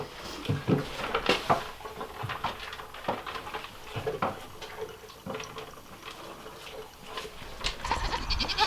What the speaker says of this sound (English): I'll introduce you to all the other goats.